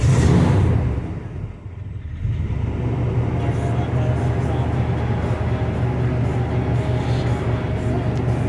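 A 1985 Chevy K10's 350 V8 with a new Edelbrock carburetor and electric choke runs cold at a steady, rumbling idle after a louder opening moment, heard up close with faint background noise.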